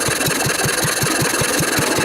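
A 1940s Wolseley stationary engine drives an old mixer through a flat belt, running loud and close with an even, regular chuffing beat of about five firing pulses per second over constant mechanical noise.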